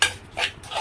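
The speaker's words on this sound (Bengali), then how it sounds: "তো ঘি দিয়ে এখন ভালো করে ভেজে নিই সুজিটাকে লাল লাল করে।" Semolina is fried in ghee in a pan and stirred, giving a few quick scraping and clinking strokes of a utensil against the pan in under a second.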